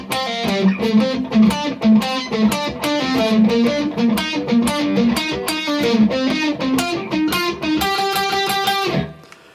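A distorted electric guitar plays the fast riff from a song at full speed, steady picked notes running continuously for about nine seconds before stopping abruptly, with no voices.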